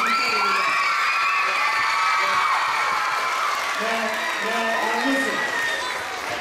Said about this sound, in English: Let's give Mr. Harper a real big round of applause.